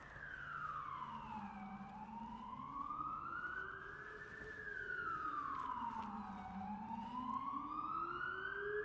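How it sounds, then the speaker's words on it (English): An ambulance siren wails outside in a slow rising-and-falling pattern, steady and moderately loud for the whole stretch, with no talking over it. "Getting a nice ambulance break here."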